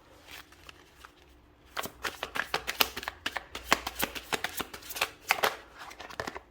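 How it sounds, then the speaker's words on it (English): Tarot cards being shuffled by hand up close, a steady run of crisp riffling flicks and slaps in quick rhythm, fairly quiet with no talk. "I'm going to pull a few more cards."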